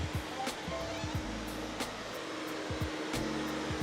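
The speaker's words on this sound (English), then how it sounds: "we're just literally going to vacuum up all the stuff that's left on the ground" A Predator 3200 industrial vacuum cleans a factory floor, its steady whooshing roar continuous throughout, with irregular scraping knocks from the floor head beneath it.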